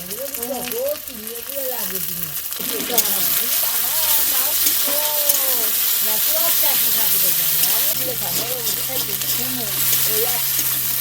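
Ginger and garlic paste fries loudly in a pan for a village-style prawn curry, a dense, steady sizzling hiss that grows stronger after a few seconds, with a voice talking over it throughout.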